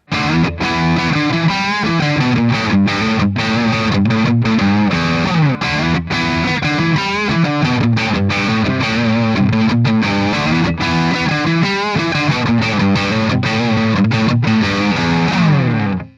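A distorted electric guitar played through the neck pickup, warm and thick, strummed chords ringing steadily and loudly with effects.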